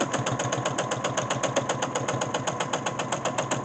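A sewing machine stitches a quilt strip in a steady, fast, even rhythm of mechanical thumps and whirring, close and alone.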